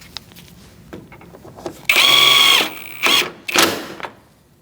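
A power tool drives bolts into the corners of a 2008-2014 Mercedes-Benz C300 front bumper cover: one loud whirring burst of about a second, then two shorter, rougher bursts, with quiet gaps between.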